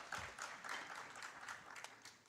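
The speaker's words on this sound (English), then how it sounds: "Let's give them a round of applause." Faint applause from a crowd, scattered claps pattering for a couple of seconds at a distance.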